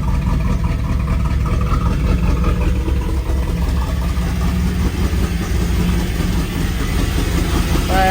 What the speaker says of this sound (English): Sound like a vacuum leak up here though.